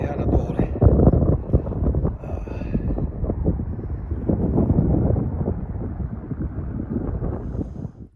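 Steady wind gusting across the microphone on a summer mountain hike in the Three Nations area, a continuous loud rumbling roar with no voices.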